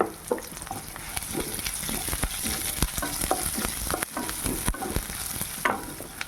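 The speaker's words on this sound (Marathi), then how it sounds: "1 कांदा मी चिरून घेतलेला आहे, तो पण परतून घेऊया." Chopped onion frying in a little oil in a pan, steady sizzle with irregular scraping and stirring clicks as it is turned, close and fairly loud, no voices.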